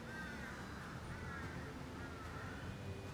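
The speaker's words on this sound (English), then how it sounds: "You hear all the crows." Crows caw repeatedly in a Bangkok park near Wat Saket and Mahakan Fort, their harsh calls faint and distant over a steady hum of city background noise.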